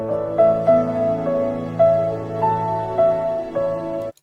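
A film theme plays as a gentle piano melody of single notes over sustained low chords, moderately loud and steady, with no voices.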